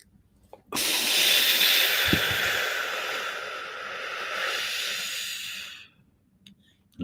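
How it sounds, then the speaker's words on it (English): A person takes a deep breath in and all the way out as part of a calming breathing exercise, one long, close, airy rush of breath that swells and slowly fades, with silence on either side. "we're breathing all the way in and all the way out"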